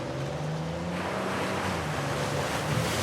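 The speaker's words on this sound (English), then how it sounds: "A secret cave behind a waterfall." A waterfall in the video game Uncharted: Legacy of Thieves roars in a steady, loud, broadband rush of falling water close by, continuous throughout with no talking.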